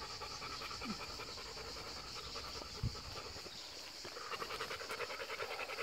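A dog pants steadily and quietly in rapid, even breaths close to the microphone, with faint background noise and no talking.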